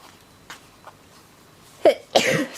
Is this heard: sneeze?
yes